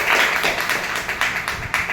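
An audience at a motivational talk breaks into strong applause, a dense, even wash of clapping that continues through the brief moment with no speech over it.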